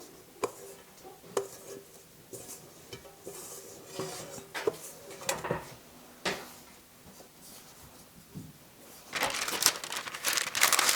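Parchment paper is crinkled and folded around pie dough in a home kitchen, giving scattered crisp rustles and taps that grow into busier, denser crinkling near the end.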